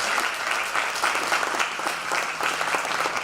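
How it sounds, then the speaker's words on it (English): Steady, dense audience applause from a crowd at a spring campaigns class presentation, many hands clapping continuously and fairly close for a few seconds with no talk over it. "Let's give them a round of applause."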